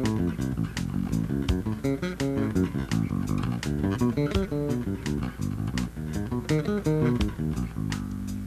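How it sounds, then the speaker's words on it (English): Electric bass runs alternating major and minor arpeggios up and down the neck over a steady drum machine beat, busy plucked notes with regular sharp hits, loud and close with no talk. "Let me play it with the drum machine."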